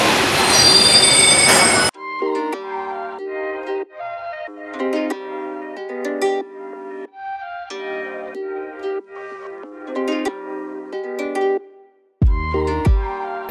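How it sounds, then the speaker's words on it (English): Paris metro train running between stops, with loud, sustained metal wheel squeal in shifting tones that rises and falls over the ride, plus a brief burst of rumbling car noise at the start and a heavy thump near the end. "Hopping back on the metro to head to our next stop today."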